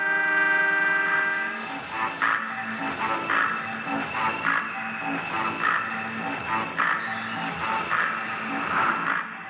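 A train sounds a long, sustained horn whose tone holds throughout over a steady rumble with a faint regular pulsing beneath, fairly loud and with no voices.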